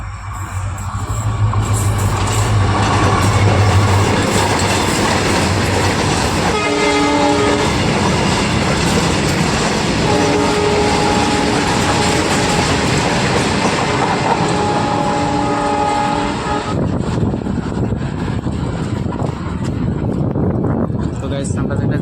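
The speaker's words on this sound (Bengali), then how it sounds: "এটা দেখুন শিলাপাথারের দিকে থেকে আসছে ট্রেনটা" A train comes into Gogamukh railway station with a loud, constant roar of wheels and engine and a long horn blast that sounds twice, the second held for several seconds, while someone talks nearby.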